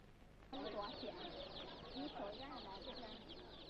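Small chicks chirp and peep steadily inside a coop made from an old rabbit hutch, a dense continuous twittering that starts abruptly and holds at moderate loudness, with a faint voice murmuring underneath.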